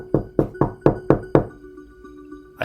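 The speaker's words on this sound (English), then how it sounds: "That's when I hear the first knock." Six firm knocks land on a door in an even rhythm, close and loud, followed by a brief quiet hum and a final sharp tap.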